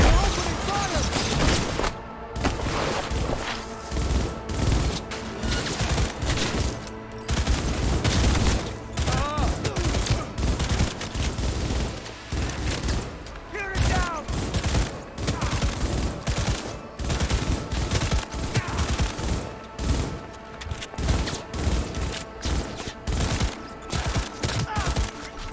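Sustained gunfire from enemies opening fire in Cyberpunk 2077, dense bursts of automatic shots and booms rattling nonstop, loud and close, with shouted voices briefly over the barrage.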